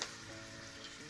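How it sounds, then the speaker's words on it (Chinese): Sweet potato pieces frying in hot oil, a soft continuous sizzle that holds steady through a very short stretch with no voices. "油热了呀，可以放红薯了"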